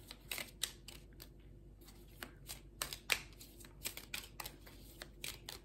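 Tarot cards being shuffled up close, with soft, quiet riffling flutters and crisp card snaps in an irregular rhythm, with no talking over them.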